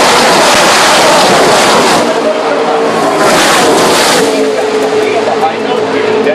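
Race cars at the Daytona 500 roar past, a loud, sustained engine wash rising and falling as the pack passes, with a commentator talking over the noise.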